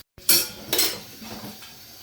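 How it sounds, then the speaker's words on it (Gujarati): Dishes being washed, a couple of sharp utensil clinks and clatters close by, followed by a fading rattle. "ત્યાં શું હાલતો તું વાસણ ધોવા માંડ"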